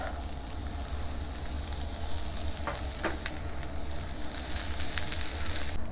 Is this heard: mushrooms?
yes